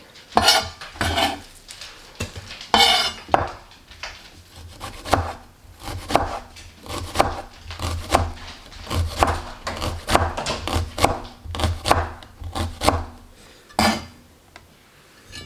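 A knife slices an onion thinly on a cutting board, a close series of crisp rhythmic cuts with short pauses and a few utensil clinks.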